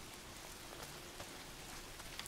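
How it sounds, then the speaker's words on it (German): Rain falls steadily in the open world of the video game Days Gone, a soft, even patter with a few scattered droplet ticks, faint and with no voices. "Fängt schon wieder an zu regnen."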